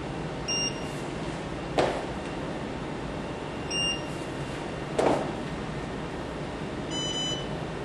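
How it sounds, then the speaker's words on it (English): A Myotest device emits short electronic beeps at intervals, ending in a quick double beep, over a quiet room hum with a couple of soft thuds. "the double beep means that the test was performed successfully"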